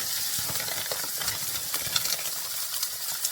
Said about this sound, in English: And then we're going to add half of the potatoes.